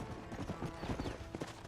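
Horse hooves clip-clop in the video game Red Dead Redemption, a quick series of hoof strikes on the ground under a continuous background hum.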